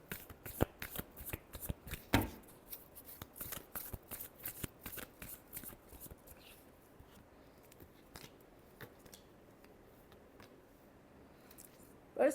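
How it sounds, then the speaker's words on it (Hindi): Tarot cards being riffled and shuffled by hand in a quick burst of crisp, rapid flutters, then a softer, sparser run of card slaps and slides, close and fairly quiet. "Last shuffle."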